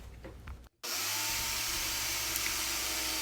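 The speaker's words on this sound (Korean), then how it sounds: "4곳의 모서리를 직소로 대충 자르고 벨트 샌더로 갈아냅니다" A power tool, a jigsaw or belt sander shaping the corners of a wooden tabletop, runs loud and close. A brief quieter stretch and a short silent gap come first, then the tool roars in with a steady motor hum and a broad grinding rasp.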